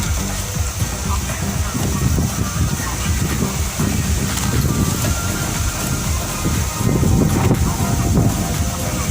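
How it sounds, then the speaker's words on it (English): Strong wind roars steadily across the microphone outdoors during a windy-day cooking session, a loud continuous buffeting rumble with gusts swelling near the middle and end. "The wind is awful after trying to cook with this wind"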